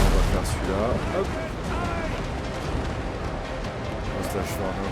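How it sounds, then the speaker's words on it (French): Ship cannons fire in the naval video game Windrose, a series of broad, rumbling booms over a dense, continuous roar of battle noise that stays loud throughout. "avec mes 8 canons là, bing"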